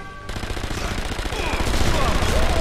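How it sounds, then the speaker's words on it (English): Rapid bursts of gunfire from the sniper shooter game Sniper Elite V2 crackle loud and close, building into a dense, continuous volley of shots with heavy low thuds. "I pop out of cover and shoot you in the face"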